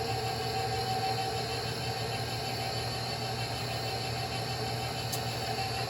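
A stand mixer on its lowest speed kneads sourdough dough, giving a steady, even motor hum with a constant whir and no pauses, close and moderately loud, with no talking.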